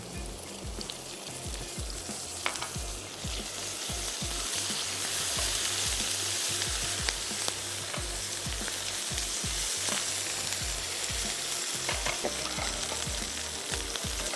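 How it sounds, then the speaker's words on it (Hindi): Onion sizzles steadily in hot oil with garlic ginger paste as a spoon stirs through it, the frying loud and continuous with repeated scraping strokes and no talk. "अब मैं इसमें ऐड करने जा रही हूँ लहसुन और अदरक का पेस्ट।"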